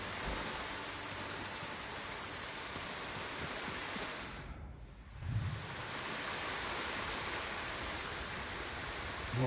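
A waterfall in Ghost of Tsushima gives off a steady, dense roar of falling water that briefly dips midway, then returns, with no voices.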